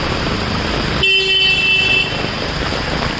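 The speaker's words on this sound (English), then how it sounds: "See now there's complete traffic." Street traffic during heavy Mumbai rain: a steady wash of rain and engine noise, with a car horn sounding one long, close honk of about a second in the middle.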